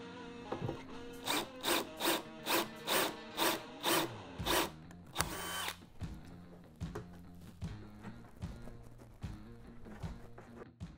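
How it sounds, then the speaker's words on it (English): A step drill bit whirs in a series of short, regular bursts as it bites through material, then a longer grinding pass followed by quieter intermittent spins. "I did pick a location where I want to drill my hole."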